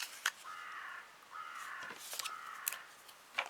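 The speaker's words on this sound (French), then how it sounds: "Sympa les corbeaux." Several crows caw in harsh, repeated bursts at moderate distance, three drawn-out calls spaced across a few seconds with a faint background hiss.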